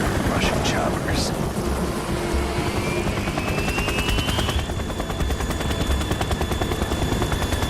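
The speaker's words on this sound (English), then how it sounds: "Russian choppers." Russian helicopters and gunfire in the Metal Gear Solid 2 video game: a loud rotor drone with bursts of shots and a rising whine, continuous through the scene.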